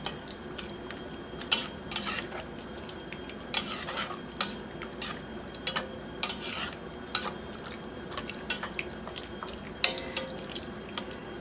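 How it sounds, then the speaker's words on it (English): A spoon stirring black pepper, thyme and salt into cashew rice in a pot: close, quiet, rhythmic scraping and clinking strokes repeat steadily, with a soft sizzle underneath. "I'm going to stir in my black pepper, thyme, and salt."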